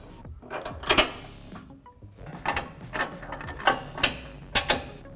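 Close metallic ratcheting and clanks as suspension bolts are installed and tightened on a 2017-2019 F-150 Raptor's lower control arm during a Fabtech 4-inch lift install, coming in irregular bursts with short pauses.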